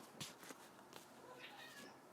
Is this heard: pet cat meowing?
yes